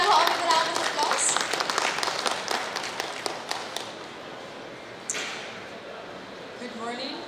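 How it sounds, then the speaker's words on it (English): An audience at the inaugural session of an international healthcare conference claps to welcome a speaker; the scattered applause is strongest at first and then thins out, with a voice heard over it. "Can we please have her with a round of applause?"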